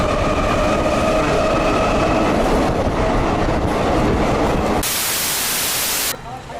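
A metro train runs along its rails in India, a loud steady rumble with clattering wheels and a high whine, heard from on board, ending with an abrupt cut.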